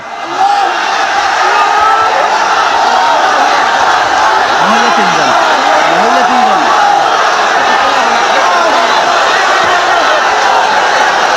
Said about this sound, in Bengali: জোরে স্লোগান দেন।